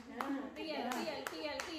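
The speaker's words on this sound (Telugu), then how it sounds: "క్లాప్స్ కొట్టాలి, కాల్ చేయాలి" A group claps hands at a lively school gathering, a dense run of many overlapping claps with sharper bursts standing out, mixed with some voices and cheering underneath.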